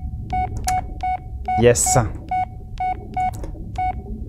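Phone keypad beeps in the horror game Blair Witch: a steady series of short, evenly spaced electronic tones over a low background rumble, with a brief spoken word partway through.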